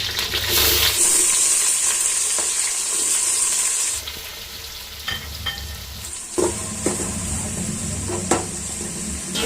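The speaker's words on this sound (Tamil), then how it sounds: "இந்த வெங்காயம் பொரியறதுக்காக ஒரு 2 நிமிஷம் 3 நிமிஷத்துக்கு நல்லா பொரியணும்." Onions sizzling in ghee for Muslim-style ghee rice, a loud, steady frying hiss with periodic stirring scrapes and clatters, no talk.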